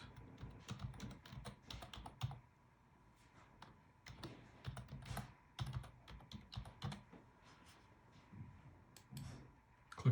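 An email address being typed on a computer keyboard, quick runs of light key clicks close by, with short pauses between bursts and no voices.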